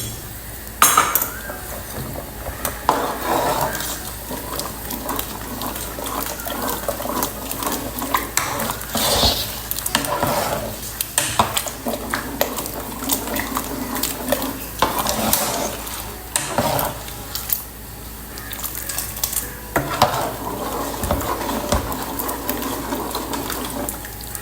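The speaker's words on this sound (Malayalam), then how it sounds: "ഞാൻ കുറച്ച് ഒരു 2 സ്പൂൺ കോൺഫ്ലോർ വെള്ളത്തിൽ കലക്കിയിട്ട് അതും കൂടി ഇതിലേക്ക് ഒഴിച്ച് കൊടുക്കുന്നുണ്ട്" Fish soup being stirred in a pot after a cornflour-and-water slurry goes in, with a steady run of spoon scrapes and clinks against the metal that carries on close and busy throughout, no talking.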